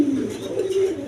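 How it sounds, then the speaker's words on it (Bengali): A pair of red Gorra pigeons coo softly and steadily at close range, a low continuous murmur with no talk over it. "দর্শক এখানে এক পেয়ার কবুতর আছে, গররা কবুতর, রেড কালার গররাস।"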